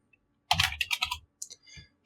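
Typing on a computer keyboard while writing code: a quick close burst of key clicks, a brief pause, then a few more scattered taps, alone and fairly soft.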